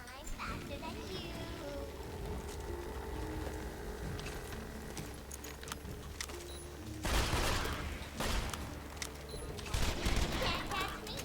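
Gunfire in the video game Borderlands 2 from a shock shotgun, a slag pistol and a Dahl pistol, with rapid shots throughout and louder bursts toward the end. A voice talks over the shooting.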